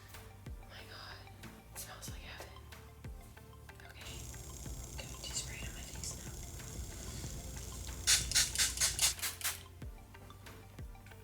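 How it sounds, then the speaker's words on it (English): e.l.f. Dewy Setting Mist in Coconut sprayed in a rapid burst of about seven close, hissing pumps near the end, following soft whispered talk and faint handling rustles. "So I'm gonna go ahead and do some setting spray"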